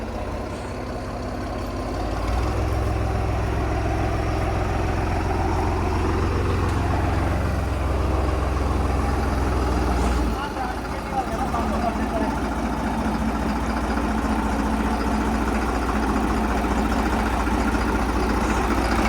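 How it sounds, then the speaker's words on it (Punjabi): A tractor engine runs slowly through field preparation for potatoes, a steady low rumble and drone that swells after a couple of seconds and holds near and loud, with a slight dip midway. "ਚੱਲ ਰਿਹਾ ਟਰੈਕਟਰ"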